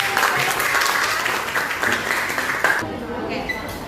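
A classroom of students applauds together in a steady, dense wash of clapping that runs for most of the stretch before thinning out near the end.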